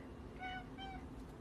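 A cat meows twice in quick succession, two short, clear calls rising above a steady, noisy indoor background with no talking.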